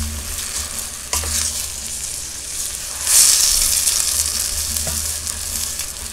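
Minced garlic sizzles in a hot pot while being stirred for pork kimchi stew, a steady frying hiss with scraping stirs and a brief louder crackle midway.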